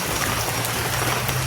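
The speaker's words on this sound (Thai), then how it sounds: "มากับบรรยากาศสายฝนไปพี่น้อง" Steady rain falling outdoors during a rainstorm, a dense even hiss that carries on without a break, fairly loud and heard alone with no talking.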